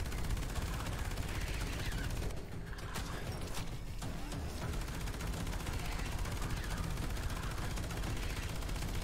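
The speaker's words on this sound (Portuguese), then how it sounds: "Deu um tiro de bazuca agora. Explodiu tudo." A loud, dense burst of gunfire and bazooka explosive blasts in the mobile shooter game Evolution 2: Battle for Utopia, continuous and heavy, with a brief dip before the barrage resumes.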